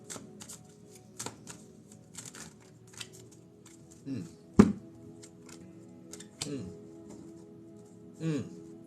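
Tarot cards are shuffled by hand, producing a run of soft riffling taps and sharper card slaps at irregular intervals, with a few louder flicks, while a person talks between them.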